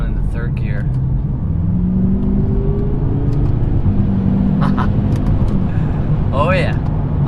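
A BMW M6 Gran Coupe engine pulls hard in third gear, its steady low rumble climbing in pitch as the car accelerates, loud and close from inside the cabin, with brief bits of a voice at the start and end.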